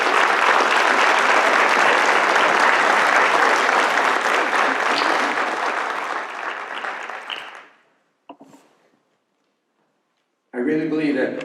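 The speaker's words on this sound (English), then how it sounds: "Please stand and for a round of applause" Loud, dense applause at a community service awards ceremony runs for about seven seconds and then dies away to near silence, after which a voice begins speaking.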